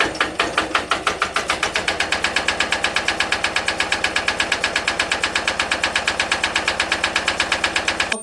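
A small diesel engine driving an electric generator runs with the fuel back on and the throttle up, a loud, close, rapid, even knocking chug that holds steady throughout before cutting off at the very end.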